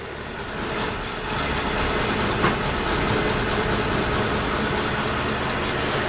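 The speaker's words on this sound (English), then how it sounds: "it's a pretty quiet engine." A classic car engine idles steadily just after starting, a low, even mechanical hum with faint vibration that holds at a constant level throughout, with no voices.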